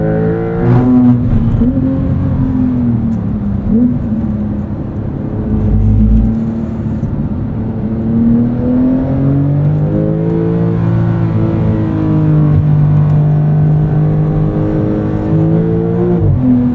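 A 2023 Porsche 911 Turbo S engine drones loudly from inside the cabin on a Porsche Experience Center track, its pitch rising and falling as the car accelerates and shifts through gears.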